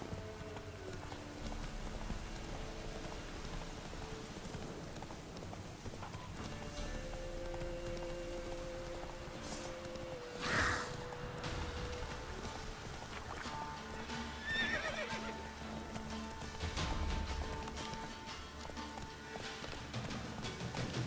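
Roach the horse in The Witcher 3 video game, with hooves clip-clopping steadily and occasional whinnies and neighs over a soft ambient background.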